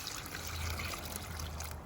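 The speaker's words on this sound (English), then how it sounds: "we're gonna add 6 cups of water" Water from a container runs steadily into a big batch of homemade Cajun sausage meat and seasoning, a faint continuous trickle with a low rumble beneath it.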